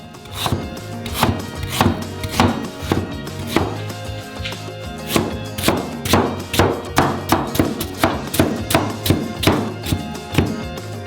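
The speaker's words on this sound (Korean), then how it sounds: "큐빅으로 썰어주세요." Peeled mango pulp is chopped into cubes with a knife on a cutting board, giving a steady run of close, crisp thuds at an even, unhurried pace over a constant tonal background.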